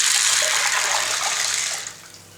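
Water poured from a container into a pressure cooker holding dried chickpeas, a close, steady splashing gush that tapers off and fades toward the end.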